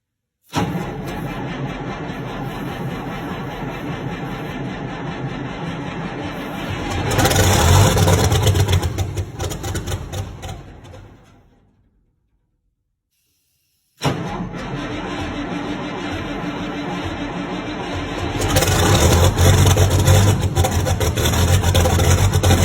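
A Cummins diesel engine in a Ford FW-30 Steiger Panther tractor cranks and catches in winter, running rough before revving up, cuts out into silence, then starts again and revs once more.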